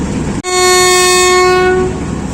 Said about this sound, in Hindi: गार्ड ने विसल दे दी है